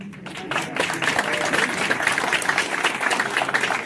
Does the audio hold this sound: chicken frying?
no